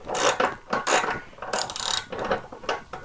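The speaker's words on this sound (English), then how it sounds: "And ratchet that nut right off of there" A ratchet wrench turns a nut off during fuel pump work on a Harley-Davidson Sportster 883 Iron, with rapid ratcheting clicks in several close bursts that fill the short stretch with no talk.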